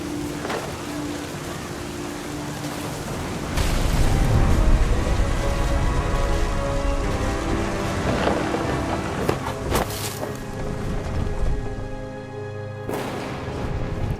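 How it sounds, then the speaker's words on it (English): Rain and wind hiss steadily in the game What Remains of Edith Finch, and heavy thunder rumbles swell partway through. Sharp cracks follow later, loud and close. "The thunder sounded much too close and full of angry power."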